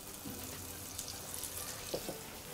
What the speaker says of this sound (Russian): Жарить я все это буду на сливочном масле.